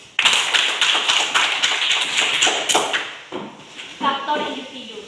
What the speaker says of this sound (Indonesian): kita beri tepuk tangan untuk teman Justin